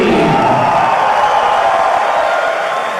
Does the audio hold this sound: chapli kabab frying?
no